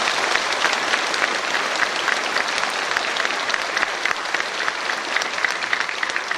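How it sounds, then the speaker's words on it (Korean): Congregation applauding inside a church during a dedication service for a new sanctuary, a dense, even wash of many hands clapping steadily throughout with no break. "박수로 한번 축복해 주시기"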